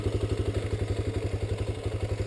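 Motorcycle engine running with throttle applied, a loud, close, rapid thumping pulse holding steady and even throughout.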